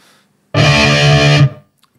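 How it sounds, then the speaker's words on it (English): A saturated, scooped electric guitar chord through an amp head rings out loud and sustained for about a second, then cuts off, with no voices. "But it's a more scooped, more saturated lead sound, rhythm sound."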